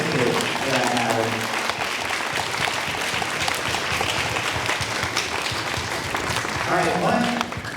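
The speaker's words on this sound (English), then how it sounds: "we got a big round of applause for our 5th grade and all of the kids for that matter" Applause from a school assembly crowd for fifth-grade students, a dense, steady wash of many hands clapping for several seconds, with a voice briefly audible at the start and end.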